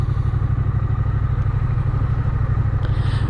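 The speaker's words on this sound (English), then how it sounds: "You've got a lovely exhaust note" A Triumph Bonneville T120 motorcycle engine runs steadily with a smooth, low, rhythmic exhaust burble, close and continuous with no talking.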